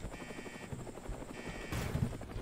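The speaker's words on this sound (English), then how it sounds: "Jump back in the helicopter." Helicopter in the Roblox game Mad City, a continuous rotor thump and engine drone at steady loudness, with a brief louder rush near the end and no speech.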